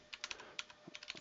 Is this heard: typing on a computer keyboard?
yes